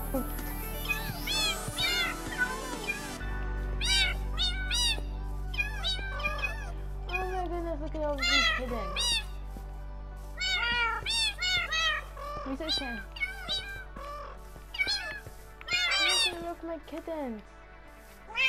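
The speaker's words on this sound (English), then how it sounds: "Kittens. I have kittens for days." Kittens in the video game Minecraft meow repeatedly in many short, high overlapping calls, close and steady over a low background hum, with a voice speaking among them.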